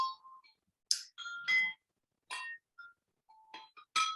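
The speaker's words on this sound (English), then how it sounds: "here's the wind chime, so prepare for wind chime noises" A handmade wind chime jingles in irregular bright clusters of ringing, tinkling tones, with short pauses between strikes and several louder clangs standing out, heard alone without voices.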